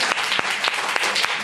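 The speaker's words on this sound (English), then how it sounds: "Clap." Audience clapping fills the room as a dense, close patter, with a few sharper claps standing out at a loose, regular pulse.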